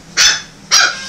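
A German Shepherd puppy gives two short, sharp barks about half a second apart, close and fairly loud, with nothing else around them.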